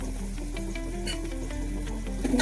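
Chopped tomatoes go into a hot pan in a home kitchen and sizzle steadily up close, with faint stirring scrapes and clicks layered over the continuous frying hiss and no talking.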